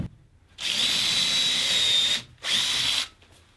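A power drill drives Specs M-Cut self-countersinking screws into MDF in two close bursts: a long steady whine of about a second and a half, a brief pause, then a shorter run, loud and near with no talking.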